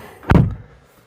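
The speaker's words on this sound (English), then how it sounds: "Let's close the door." A Proton X70's car door swings shut in one solid, close thump that fades quickly to quiet.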